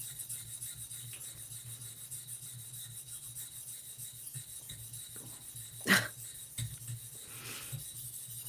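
Knife being sharpened on a 600 grit whetstone, steady faint scraping strokes under a low constant hum, with a sharper clink partway through and a smaller one just after.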